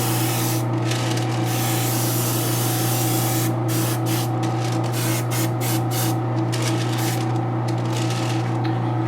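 Airbrush spraying paint onto a Sideshow Mystique Premium Format figure during a white outfit repaint, a continuous close hiss with short bursts and pauses over a steady mechanical hum, no talking.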